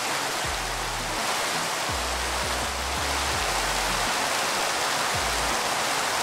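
A shower runs in a house bathroom, giving a loud, steady, unbroken rush of spraying water that stays close and even throughout, with no voices.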